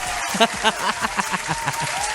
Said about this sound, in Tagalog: Ngayon ka pumalakpak.